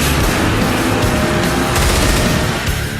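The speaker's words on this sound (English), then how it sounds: "The submachine gun has a higher rate of fire, but shoots in limited bursts, followed by a short pause between rounds." Submachine gun fire in the Twisted Metal vehicular combat game, dense loud rattling bursts with continuous booming noise and no clear pauses, alone without talk.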